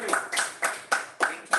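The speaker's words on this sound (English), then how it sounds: "Let's give another round of applause to Matt and Allison." Hand claps after a literary reading, six sharp, evenly spaced claps in quick succession, fairly close and moderately loud, sounding more like a few people clapping in rhythm than a full crowd.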